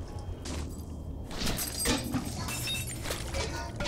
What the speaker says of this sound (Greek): Σε ακούω να σπάς πράγματα κάτω